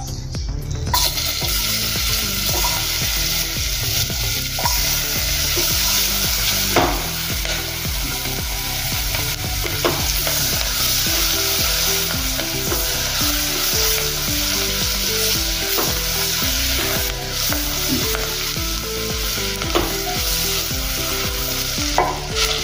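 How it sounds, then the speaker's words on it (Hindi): Onion frying in melted butter makes a loud, constant sizzle with occasional stirring, close up, with soft music running underneath. "बटर अच्छे से मेल्ट हो गया है। इसमें हम प्याज डालेंगे।"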